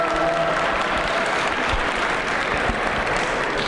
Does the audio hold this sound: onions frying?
no